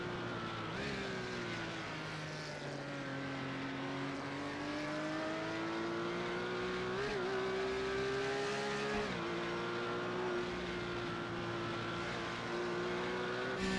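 Race car climbing Mountain Straight at Bathurst in a sim racing game for the Carrera Cup Australia, a steady loud engine drone rising in pitch through the gears, with a couple of shift dips, continuous throughout.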